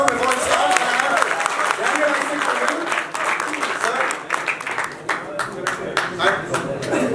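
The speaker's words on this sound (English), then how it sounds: "So big round of applause for the face-off before it starts." A crowd at a fight night press conference claps and cheers ahead of the fighters' face-off, loud dense applause that thins into scattered claps, with voices talking over it.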